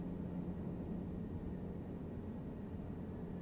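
Delta Airbus A321 airliner approaching LAX in the MSFS2020 flight simulator, a faint, steady, broadband engine rumble and hiss with a thin high whine, continuous throughout with no talking.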